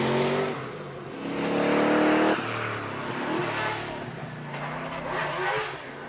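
A TVR Chimera race car at the Prescott hillclimb, its engine revving hard and climbing through the gears, loud and close before easing off as it pulls away.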